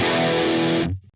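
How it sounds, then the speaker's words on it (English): Distorted electric guitar chord on a Line 6 Helix with a 70s-style chorus effect rings thick and shimmering for under a second before cutting off abruptly. "let's take a listen to what this sounds like with the chorus effect added"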